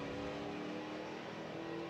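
Corvette and Camaro street-legal cars drag racing at Rad Torque Raceway, their engines a loud sustained roar, steady through the short clip.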